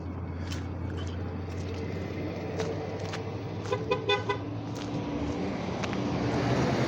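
Out on a busy street during Sunday errands, a car horn gives a short series of quick toots over a constant wash of traffic and engine noise, moderately close, with no voices.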